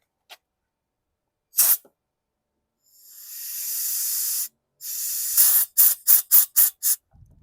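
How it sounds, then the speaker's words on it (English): Compressed air blasts into the fuel tank of a Storm Cat 700-watt portable generator: a short puff, a sustained loud hiss of about one and a half seconds, then a longer blast followed by a rapid series of short bursts, all close and with no talk. "let me tap this with a little compressed air"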